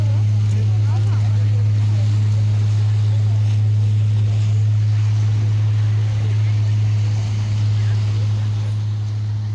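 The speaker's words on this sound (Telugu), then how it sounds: "పడవ పోతుంది." A boat engine passes at Maliya Beach in Kuwait, a steady low droning hum under wind and surf that holds constant and loud throughout, with faint voices in the background.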